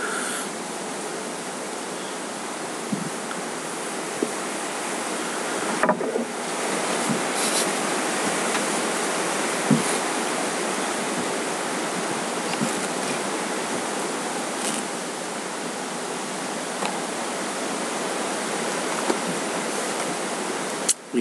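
Steady outdoor wind roars as a broad, constant rushing wash. A few faint clicks and taps sound under it, and no one speaks.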